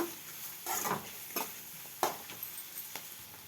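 Onions with green and dried red chillies fry in oil for a Telangana-style amaranth curry, a quiet soft sizzle broken by a few scraping stirs of the pan.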